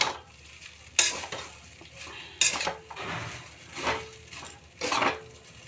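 Pre-fried egg, chicken and carrots are stir-fried in a pan, with repeated scraping strokes of a utensil against the metal over a low sizzle, close up and with no talking.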